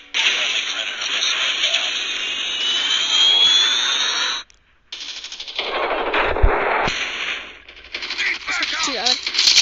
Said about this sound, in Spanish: Ay, no, están disparando. ¿Quién me está disparando?